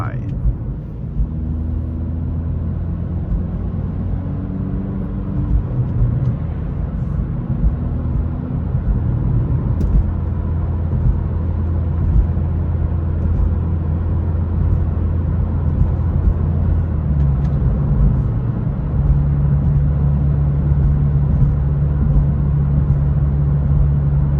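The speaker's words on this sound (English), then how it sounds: "this will give you a rough idea of how the Remark exhaust sounds like" A 2023 Acura Integra's Remark aftermarket exhaust drones steadily while cruising, heard from inside the car, a deep constant rumble with slight shifts in pitch and no pauses.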